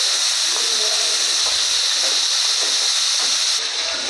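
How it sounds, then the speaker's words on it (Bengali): Turmeric- and salt-coated prawns frying in a pan: a loud, steady, close sizzling hiss that runs throughout, with faint clinks and soft bumps of the pan underneath and no talk. "এবার চিংড়ি মাছগুলোকে আমি ভেজে নেব ভালোভাবে।"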